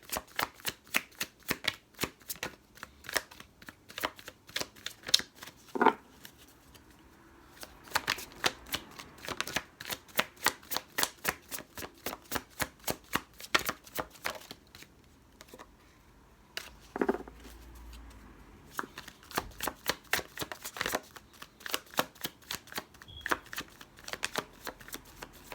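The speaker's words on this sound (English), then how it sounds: "I'm going to remain silent as I shuffle." Playing cards are shuffled by hand in repeated riffle bursts, crisp rapid flutters at close range, each followed by short pauses and soft handling between them.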